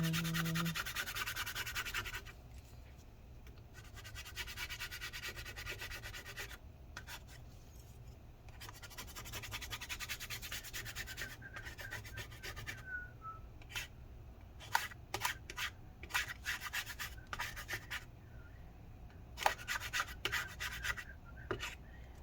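Adhesive scraped off a 2012 15-inch Retina MacBook Pro A1398, close, quiet rasping strokes in bursts with pauses, turning into sharper scattered clicks and scratches toward the end.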